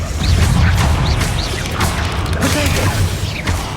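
A Bombarda spell goes off in Hogwarts Legacy, a loud, close blast with a crashing, rumbling burst of debris that carries through the short moment.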